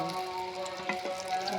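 Traditional Bengali village pitha fry in hot oil with a soft, steady sizzle and a few faint bubbling pops, heard close and quietly with no talk.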